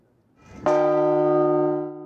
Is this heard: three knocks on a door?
no